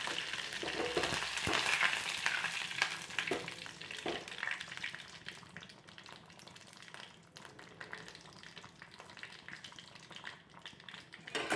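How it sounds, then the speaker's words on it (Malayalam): Mustard seeds are tempered in hot oil for sambar, a close, steady sizzle and crackle with scattered pops and occasional stirring clatter. "നമുക്ക് കടുക് താളിച്ച് വയ്ക്കാം."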